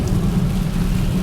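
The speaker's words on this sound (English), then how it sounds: "I hate driving in the rain." Steady rain during a stormy car drive, a dense continuous patter on the vehicle blended with a deep low road and engine rumble, loud and close throughout.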